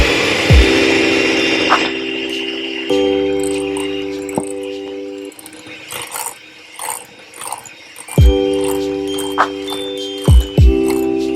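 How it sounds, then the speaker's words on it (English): An electric mixer whisks cookie dough in bursts, its whirring motor starting and stopping several times, with clanks and scraping against the bowl in between. "So we're going to start whisking the mixture together."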